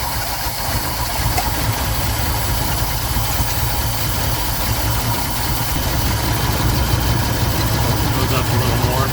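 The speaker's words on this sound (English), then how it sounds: "You can definitely hear lifter clattering," An engine idles with lifter clatter, a steady loud rumble with a fine rapid ticking throughout, recorded close at a swap meet, with voices partly over it.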